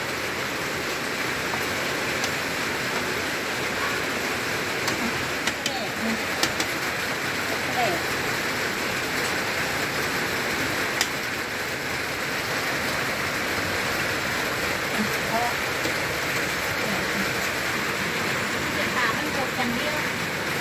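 Steady rain falls in rural northeastern Thailand, a dense continuous hiss lasting about twenty seconds with faint scattered ticks and drips.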